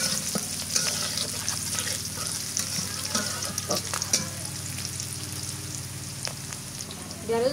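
Vegetables fry and get stirred in oil in a kadai over a clay stove. A steady, close sizzle runs throughout, with scraping stir sounds at intervals.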